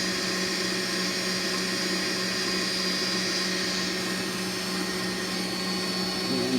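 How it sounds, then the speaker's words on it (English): An electric blender whipping a sugar mixture for an apple sharlotka cake gives a steady, unbroken whirring hum that stays even and fairly loud throughout, with no talking. "I'm getting ready to stop the blender"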